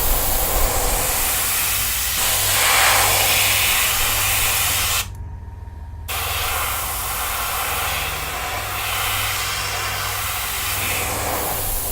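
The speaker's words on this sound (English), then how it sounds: "Use the air from the compressor to help dry this out quicker." A compressor air nozzle blows over freshly repainted acrylic on a Chewbacca mask's lips. The hiss is loud and steady and close by, broken once by a brief pause before it resumes.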